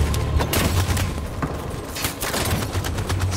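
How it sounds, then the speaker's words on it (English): Sustained automatic gunfire in a battle scene from the video game Detroit, with repeated sharp bursts crackling over a constant low rumble and no clear talking. "Y'all shooting too."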